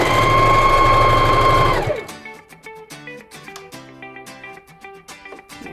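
A sewing machine stitches a dance costume in a loud, steady run for about two seconds, then stops, leaving quieter clicks and light handling sounds.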